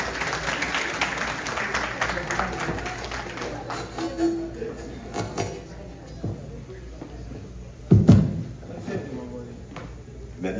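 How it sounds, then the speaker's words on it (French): Applause at a concert in Ottawa as a consul is invited to speak, a scattered crowd clapping that thins out over several seconds, with talk and a loud knock near the end. "Sous vos applaudissements, s'il vous plaît."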